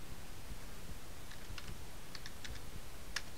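Someone types an ADB push command on a computer keyboard while rooting an HTC Evo Shift 4G phone, with a few soft key clicks scattered over steady background hiss and no talk.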